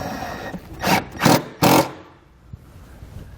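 A single bolt being driven back in with a 10mm socket while wiring a Roadmaster Diode 7-wire to 6-wire Flexo-Coil kit, three short, close, raspy ratcheting bursts followed by quiet.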